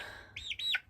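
A pet bird named T-Rex gives two quick rising-and-falling chirps close by, a short tweet followed by a longer, brighter one, over a quiet room with no talking.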